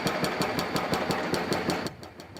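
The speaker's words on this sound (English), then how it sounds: "construction is officially underway tonight for a streetcar track replacement project" Construction machinery at work at night on a streetcar track replacement at a Toronto intersection, giving a rapid, steady mechanical pounding with engine rumble, heard alone at moderate distance.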